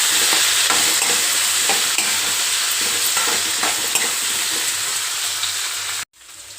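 Ivy gourd pieces fry in a pan over low heat, a loud continuous crackling sizzle with light stirring scrapes that cuts off abruptly near the end.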